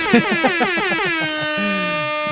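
Several loud air horn blasts, rapid honks in quick succession, then one long sustained blare that fades out.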